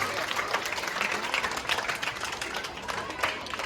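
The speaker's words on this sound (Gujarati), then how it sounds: "આપણે તાળીઓથી ફરી વખત પાછા આપણે વધારીએ" Audience applause greeting a pilgrim at the start of a journey toward Dwarka, a steady wash of many hands clapping throughout, fairly close and sustained, with some voices mixed in.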